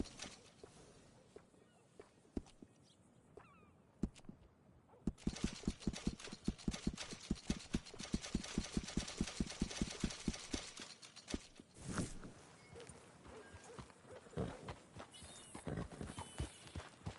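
Horse hooves clip-clop at a steady walking rhythm in the video game Red Dead Redemption 2, faint at first, then close and clear for several seconds before trailing off.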